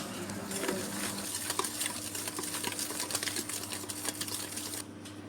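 Rapid, steady scraping and tapping of a utensil stirring flour and dry cake ingredients in a bowl, close and continuous with a faint hum in the background.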